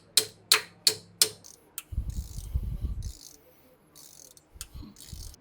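A ratchet clicks in a few quick, sharp bursts while bolts are snugged down during a camshaft install on a Ford 460 engine, followed by low rustling and softer knocks close by.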